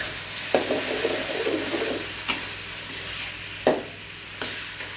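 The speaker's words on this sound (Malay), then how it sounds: "Goreng ya sekejap." Vegetables sizzle in a hot pan with a continuous hiss, broken by a few scraping stirs and clinks of a utensil; no voices.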